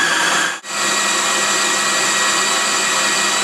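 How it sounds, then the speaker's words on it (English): A food processor grinds laundry soap, a loud, continuous high whir that briefly cuts out and restarts, then runs steadily close by. "we're going to turn on the food processor again and we're going to watch it go"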